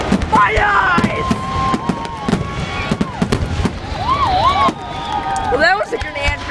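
Rapid-fire consumer fireworks crackle and pop in a dense, continuous barrage with sharp repeated bursts, some whistling streaks rising through it, while people cheer and talk nearby.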